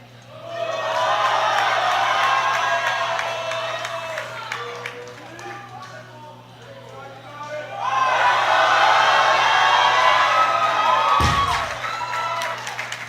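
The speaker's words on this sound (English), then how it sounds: "And with a roar from the crowd, there is 3 white lights, a new World Junior total record for McKinle" Crowd at the IPF Junior Worlds 2025 powerlifting meet roars and cheers loudly in two long surges, a sustained wall of shouting and whoops with a brief dip between and a sharp break near the end.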